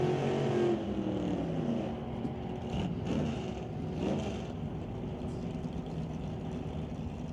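Drag race cars, a Plymouth Cuda and a 1955 Chevy, rumble and rev at a strip, a loud steady engine drone with a few swelling surges, heard from a distance without talking.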